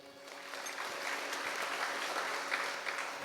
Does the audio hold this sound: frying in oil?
no